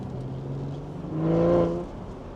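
A BMW G14 840i with a catback exhaust and 200-cell downpipe, tuned to Stage 2 and running in comfort mode, gives a steady low exhaust drone that swells into a brief rev around the middle, then eases back without burble.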